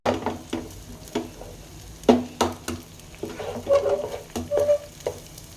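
Two eggs fry in the pan of a street-style egg fried rice, with a moderate sizzle, a hiss and repeated sharp clanks of a spatula against the pan, close up.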